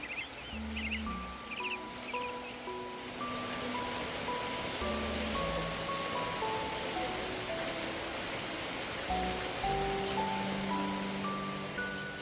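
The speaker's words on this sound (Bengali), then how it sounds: "আজকেও সকাল থেকে বৃষ্টি" Steady monsoon rain hisses across the whole stretch, a dense even wash of falling water with no pauses; birds chirp faintly in the first few seconds, and there is no talk.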